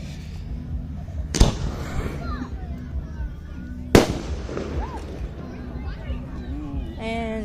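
Loud fireworks bang at a lakeside show in Kansas, two sharp, separated blasts a few seconds apart, each ringing out briefly, with people talking and exclaiming around them.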